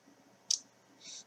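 A computer mouse clicked to switch on a browser home button: a sharp single click near the middle, then a softer, breathier click just after, close and quiet against a faint background hum.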